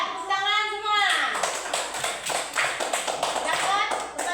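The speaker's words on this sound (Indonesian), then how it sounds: "Nah, udah, tepuk tangan semua." A classroom of children applauds together after a group presentation, with a dense run of quick claps following a brief whistle-like tone, fairly close and steady throughout.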